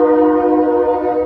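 A passing train sounds its horn, a loud, close, sustained multi-tone blast that holds steady before cutting off, with a voice briefly heard at the very end.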